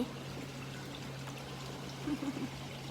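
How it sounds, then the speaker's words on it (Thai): A pufferfish spits water in soft splashy, trickling spurts over a steady low hum, with a brief cluster of louder splashes near the end. "พ่นน้ำปุ๋ยปุ๋ยใส่เลย"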